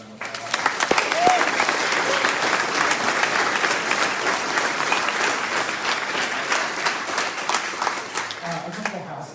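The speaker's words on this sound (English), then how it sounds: "giving them a round of applause" Steady applause fills a hall at a Liberty University Virginia GOP governor's debate, a dense, even wash of many hands clapping that holds throughout, close and loud.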